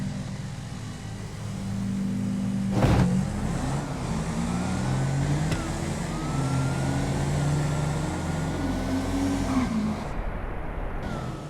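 Engines of street race cars in GTA V roar as they launch, with a sharp burst near the start and rising, sweeping engine tones held loud and continuous for several seconds.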